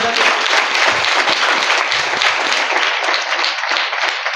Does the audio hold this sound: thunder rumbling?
no